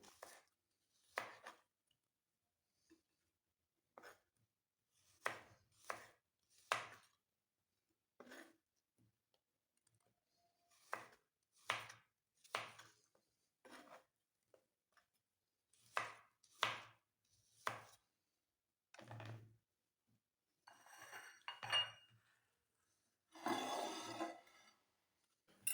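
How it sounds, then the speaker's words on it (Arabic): Apples being chopped with a knife on a board in a quiet kitchen, with irregular close, sharp single chops spaced out, then quicker clustered cuts near the end, and no talking. "بعد ما كنتهيو من تقطيع الليمون كنقطعو التفاح."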